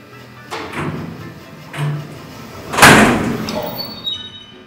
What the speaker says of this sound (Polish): Drzwi po odjeździe nagle zamykały się z hukiem.